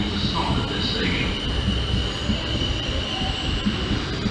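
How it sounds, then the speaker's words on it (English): A fast non-stopping train rushes through platform 2 at Basingstoke station with a loud, close, sustained rumble of wheels and carriages and faint high wheel squeal. A public-address voice can be heard faintly underneath. "There is a fast train approaching."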